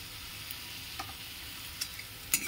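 Chopped vegetables fry in a pan, seasoned with turmeric and salt, with a soft continuous sizzle and a few light clicks of stirring.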